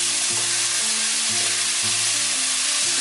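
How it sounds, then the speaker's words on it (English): Tomatoes go into a pan of onions already frying for a Mediterranean-style sea bass dish, and a loud, dense, continuous sizzle follows while they are stirred. There is no talking. "And then what we do is add the tomatoes straight in."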